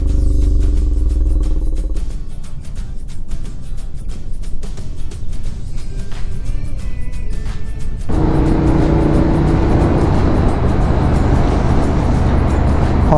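Motorcycle engine running loud and steady throughout while riding through locked-down London, its tone shifting at about two and eight seconds as the rider changes gear or speed, with wind and road noise.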